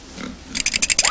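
A pig grunts and snuffles up close, a soft low murmur at first giving way to a run of rhythmic, snorting oinks, loud and alone, ending in a rising squeal.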